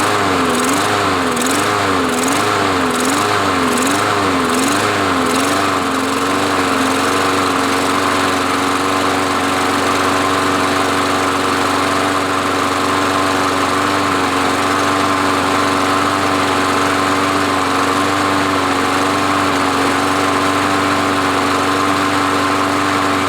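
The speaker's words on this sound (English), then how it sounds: "I'm going to go ahead and pull the cord a couple times, see if it starts on its own" A lawn mower with a Briggs 550EX engine is pull-started with a few quick cord tugs, catches, and then runs at a steady, loud, high-pitched idle close by for a long stretch.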